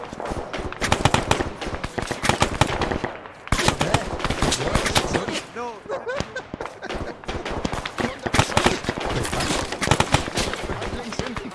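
Gunfire in a World War II video game battle at Salerno: dense, loud, nearly continuous rifle and machine-gun shots with rapid overlapping bursts, briefly dropping out and then resuming, under occasional shouted talk.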